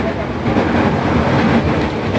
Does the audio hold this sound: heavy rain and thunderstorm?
no